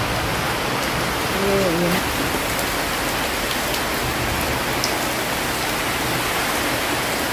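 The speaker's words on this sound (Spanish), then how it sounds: "Y vean aquí en el patio cómo se ve el agua. Está demasiado fuerte el agua." Heavy rain pouring down in a patio, a dense, loud, constant hiss of water hitting surfaces, with a brief voice over it.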